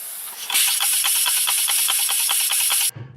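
A loud, steady hiss with rhythmic chuffing pulses from a 1947 Ford coupe's flathead V8, long abandoned, popping back through the carburetor, then cutting off abruptly near the end.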